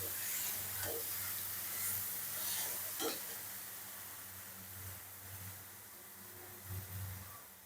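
Spiced masala sautéing for a katla fish curry, a close steady sizzle with several scraping stirs of a spoon through the pan at uneven intervals, no one talking.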